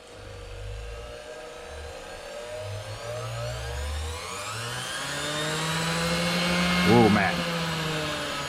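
A 150-watt Hoteche bench grinder motor spins up with a smooth, steadily rising whine that settles into a quiet hum, with someone briefly speaking.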